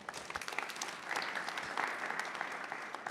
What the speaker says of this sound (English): if we could have one more round of applause for our spellers